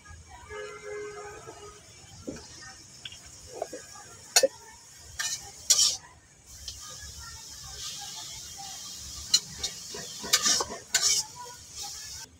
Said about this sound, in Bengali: একটু আমি সামান্য তেল দিয়ে ভাজিয়ে নেব লাউ পাতাটি